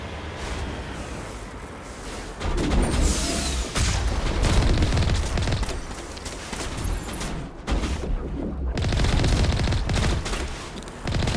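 Sustained gunfire from the video game Mass Effect, dense bursts of shots and booming impacts rolling continuously at high volume, with a brief drop around the middle before the firefight resumes.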